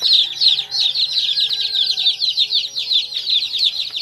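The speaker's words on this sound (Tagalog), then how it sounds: "naglubasan na yung mga sisiw" Many young chicks peep in dense, rapid, rhythmic high-pitched bursts close by, loud and continuous, with a hen's lower clucks faintly underneath and no speech.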